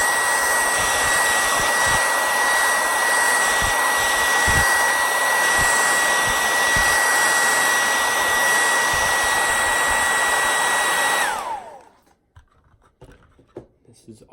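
A hair dryer blowing hot air onto a pipe tobacco tin, a loud steady whir with faint scrapes and taps, running for about eleven seconds before it switches off and winds down into near silence.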